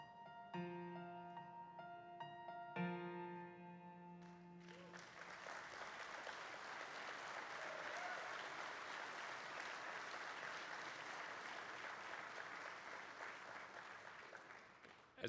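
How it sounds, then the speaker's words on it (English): Sustained applause from a large crowd at a public transportation conference general session fills the room after a short musical flourish, steady and dense for over ten seconds. "we very much appreciate the applause"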